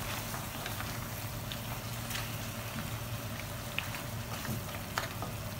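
Pork ribs adobo with chili powder stirred in a pan give a steady close sizzling crackle, broken by a few sharp ticks from the spoon; no one speaks.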